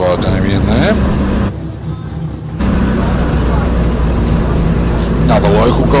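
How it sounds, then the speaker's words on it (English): A 1600 Datsun race car roars loudly on a hillclimb course as it charges into a hairpin, its engine note briefly dipping before surging again, with a commentator talking over it. "Another local guy here, Reese Molden, in his 1600 Datsun. Quick into the hairpin there by Reese."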